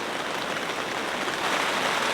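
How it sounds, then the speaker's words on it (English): Heavy rain drums steadily on a big tent during car camping, a dense, continuous hiss of drops close overhead with no breaks and no voices. "I absolutely love the sound of rain."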